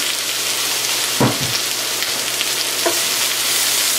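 Cumin and coriander sizzling in a pan with cooking onions, a loud, dense, continuous frying hiss with a couple of brief low clunks.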